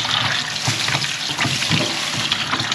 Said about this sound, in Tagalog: Ihugasan muna natin kasi may dugo-dugo siya.